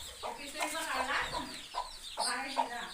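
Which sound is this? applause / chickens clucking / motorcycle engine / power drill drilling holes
chickens clucking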